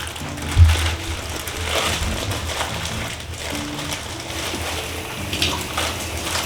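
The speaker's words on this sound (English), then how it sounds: "I want you to roll your sleeves up, wash your hands." Water runs steadily from a tap as hands are washed, a close, continuous splashing hiss with a brief thump early on.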